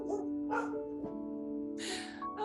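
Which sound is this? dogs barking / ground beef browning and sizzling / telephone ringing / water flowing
dogs barking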